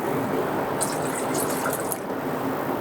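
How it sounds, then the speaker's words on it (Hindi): Three cups of water poured into a small cooking pot on a lit flame for dal, a continuous close splashing fill running steadily throughout with no talk. "तीन कप हमने इसमें पानी शामिल कर लेना है"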